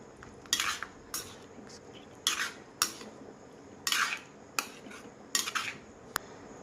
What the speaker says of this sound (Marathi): मसाला में मिक्स कर ले रो पनीर ना